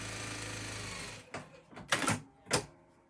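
A sewing machine stitching quilt pieces together, a steady mechanical whir that stops, followed by three short close clacks as the fabric is handled.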